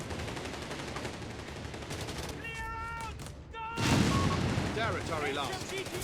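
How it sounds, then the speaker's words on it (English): A mortar barrage hitting a machine gun position in Company of Heroes 3, with dense rumbling explosions and gunfire that swell into a louder blast near the end under steady battle noise. "Mortar is barraging the MG,"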